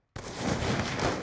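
A sniper rifle trick shot in Black Ops 2: a sharp blast starts abruptly after a brief silence, then a dense, sustained burst of loud gunfire-like noise fills the rest of the short clip.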